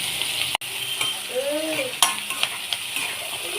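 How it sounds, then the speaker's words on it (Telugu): Oil sizzles steadily in a pan as a paste is stirred in, with a few clinks of a utensil against the pot. "ఆయిల్ కాగిపోయింది కదండి, ఆనియన్ మిక్సీ వేసేస్తున్నాను."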